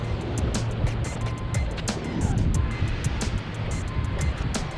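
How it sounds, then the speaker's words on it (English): Strong wind buffets a microphone on the Texas Gulf coast at Port Aransas, a constant low rumble with gusty swells and crackling bursts and no voices. "Oh, that wind?"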